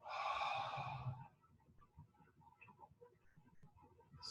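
A long, loud, breathy exhale during a yoga breathing practice fills the first second, then fades into quiet, soft breaths and small room noises.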